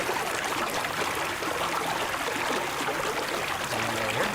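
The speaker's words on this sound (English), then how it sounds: "That's some loud water." Loud, steady flowing water rushes in the video game Someday You'll Return. The broad, continuous stream noise fills the whole stretch with no breaks.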